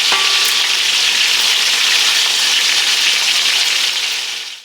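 Loud, steady sizzling of oxtails frying in hot oil, a dense hiss that fills the whole clip without pause before fading at the very end.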